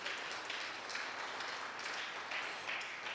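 A church congregation claps in a dense, even wash of applause that keeps going through the whole moment, heard from a moderate distance.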